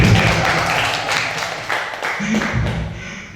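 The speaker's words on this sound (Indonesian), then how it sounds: "Tepuk tangan dulu untuk Bu Pur, sama sekalian tepuk tangan untuk Pak Yusuf tadi lupa." Audience applause in a school teachers' discussion session, a short burst of clapping from a modest group that rises and falls unevenly, with some voices mixed in.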